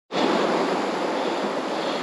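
Rushing water of Adkins Creek near canyon falls, a dense, steady roar that starts abruptly and holds loud and unbroken, close to the microphone with no voices over it.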